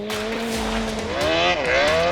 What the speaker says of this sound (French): ce petit pick-up est équipé de 2 moteurs de moto Suzuki Hayabusa